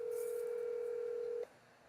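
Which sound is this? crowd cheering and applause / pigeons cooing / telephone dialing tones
telephone dialing tones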